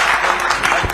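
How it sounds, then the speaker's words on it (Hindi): Audience applause fills a stage event at a Bansal News discussion with CM Mohan Yadav: a dense, loud, steady patter of many hands clapping for the full second, close and continuous. "इनके लिए ताली वाली बजा दो"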